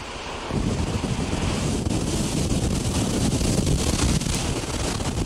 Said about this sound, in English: the storm also pounding the Atlantic coast with powerful waves